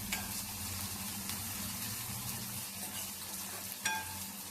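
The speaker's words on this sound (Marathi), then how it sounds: "त्याने तेलात टाकून चांगलं खरपून भाजून तळून घेणार आहे" Coarse garlic and ginger paste frying in hot oil, a quiet even sizzle throughout with a faint clink or two of stirring.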